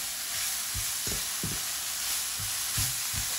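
Sliced leeks sauté in a pan with a steady, bright sizzle, and a utensil stirs them in a few short scraping bursts. The sound is close and even, with no one talking.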